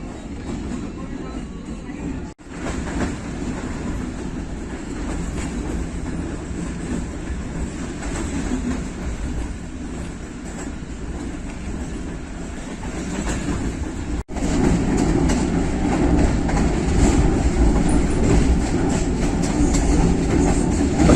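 The 46 Down Pakistan Express passenger train rolls slowly past Chaklala, its steady low rumble and rhythmic wheel clatter holding loud and continuous throughout, briefly dipping before swelling even louder near the end.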